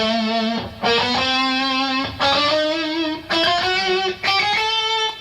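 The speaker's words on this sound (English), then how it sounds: "you can take the 3 note per string phrasing licks, apply it to the scale" A distorted rock electric guitar plays a scale starting on E in three-notes-per-string phrasing, notes rising in small steps with brief gaps at each string change, sustained and loud with no talking.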